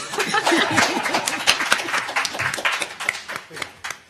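Scattered clapping from a conference audience mixed with chatter and light laughter, moderately loud and uneven rather than a full ovation.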